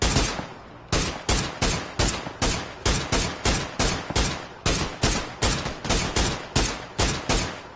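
Rapid single shots from an SLR rifle in PUBG on PS4 crack out in a steady, fast rhythm, about twenty loud reports in quick succession with no talk over them.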